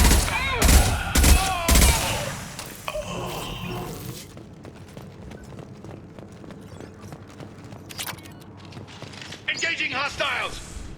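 Firefight in Mass Effect 2: heavy bursts of gunshots up front, then scattered rapid shots and clatter under a lingering rumble, with combat voices calling out between volleys.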